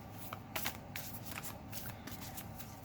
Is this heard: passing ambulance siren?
no